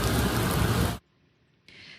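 Heavy rain pouring during a record-breaking storm in New York, a dense, loud roar of downpour that cuts off abruptly, followed by near silence and then a fainter burst of rain noise.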